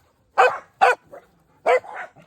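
A little dog barks near the cows: two sharp barks, a soft yip, then two more barks with a whiny edge, loud and close in an otherwise quiet outdoor setting.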